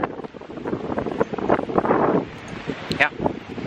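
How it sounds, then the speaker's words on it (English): Strong wind buffets the microphone at a beach with big waves and surf, a steady broadband roar with gusts swelling and easing throughout, while people talk nearby. "It's super windy today"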